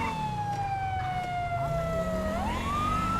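A police siren in the game LSPDFR wails steadily, sliding down slowly then rising again, over a low engine rumble, loud and close with no talking.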